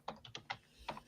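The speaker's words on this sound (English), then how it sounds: "typing words" Keys clack on a computer keyboard in a brief, uneven burst of about six soft, close taps. No one talks over them.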